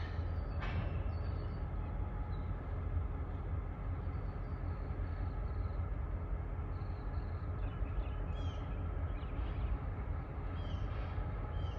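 A CSX freight train switches and drops off cars in Kenova, West Virginia, a steady low rumble of rolling railcars that carries on without a break.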